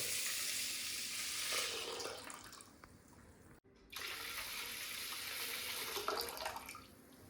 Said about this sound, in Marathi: तर पाणी टाकू थोडं.